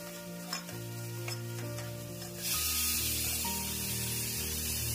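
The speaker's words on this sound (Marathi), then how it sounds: "कांदा टाकून चांगला परतून घेतला, बारीक कांदा चिरलेला." Finely chopped onion sautés in a pan, starting with soft stirring and clinking and then swelling into a louder, steady sizzle partway through, heard close up with no voices.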